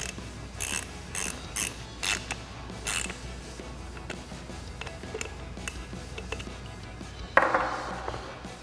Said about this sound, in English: Now we're going to grab a 3mm Allen socket, or you can use an Allen wrench,